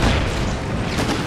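A single heavy booming report of cannon artillery in Empire: Total War, loud and close, rolling off over just over a second with no talk.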